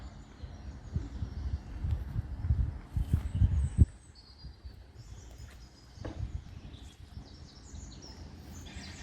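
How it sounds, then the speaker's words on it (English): Birdsong drifts across a quiet riverside car park, with scattered faint chirps and calls over soft low rustling and a few thuds, fairly distant and calm, with no talking. "Birds are singing."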